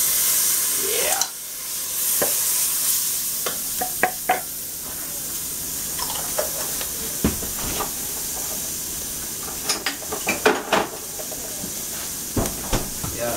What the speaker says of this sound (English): Stir, stir, stir, J-Dub.